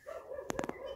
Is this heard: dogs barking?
yes